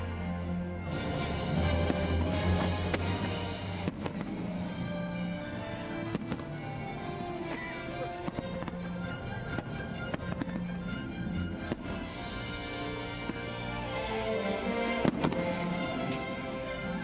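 Fireworks go off at EPCOT in Disney World during the Festival of the Arts, with a dense, continuous barrage of booms, crackles and sharp bangs at an outdoor show, loud and sustained throughout, with no talking.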